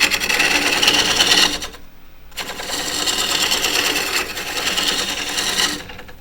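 A woodturning tool trues the rim of a spinning wooden bowl on a lathe, making a loud, continuous rasping cut that drops out briefly near the start and then resumes steadily; no one speaks.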